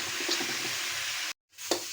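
Taro and spices fry in oil in a pan with a steady close sizzle and stirring, broken by a short silence before the sizzle resumes.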